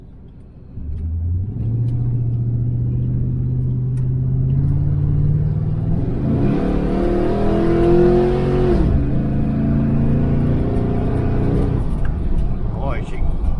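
A 1968 Chevelle Nomad's engine idles in a low steady rumble, then revs hard and pulls away into first gear, loud and close with rising, falling pitch, as someone speaks.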